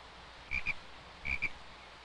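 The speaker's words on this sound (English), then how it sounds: "Hello, wee frog." A small frog gives two short, close double croaks about three-quarters of a second apart, each a quick pair of chirping calls over quiet background.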